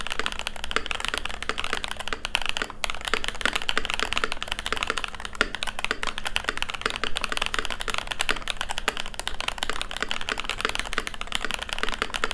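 Rapid, continuous typing on a mechanical keyboard, crisp clacky keystrokes in a dense, steady stream, recorded close up with no voices.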